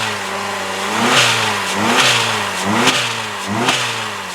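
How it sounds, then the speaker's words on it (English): A 2005 Chrysler PT Cruiser SE's four-cylinder engine revs hard toward the limiter several times in quick succession, each close, loud rise in pitch falling back before the next blip. "Let's see if I can figure out how to rev this baby up or not."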